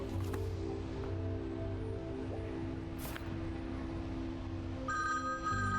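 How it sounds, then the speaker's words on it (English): A telephone rings in the game Mercury Abbey, electronic ring tones sounding over a steady background drone, with a brighter burst near the end. "Suddenly, an annoying phone ringing."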